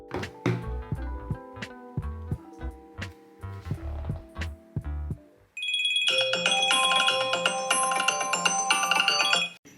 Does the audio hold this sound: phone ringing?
yes